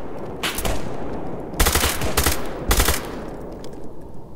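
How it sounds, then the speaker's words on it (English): Full-auto gunfire in a shooter video game comes as three short, loud bursts of rapid shots over a steady background hum. "Put it in full auto so you can actually do some murdering."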